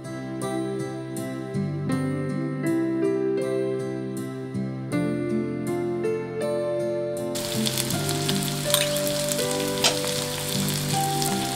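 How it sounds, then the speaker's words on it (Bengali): Capsicum sizzles and fries with spices in a pan while cooking cabbage Manchurian. A steady crackling hiss runs under prominent background music and grows denser and louder in the second half. "এবার ভালো করে একটু সব মশলার সঙ্গে ক্যাপসিকাম ভেজে নিলাম"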